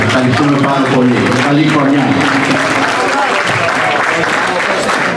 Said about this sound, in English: Round of applause, Philadelphia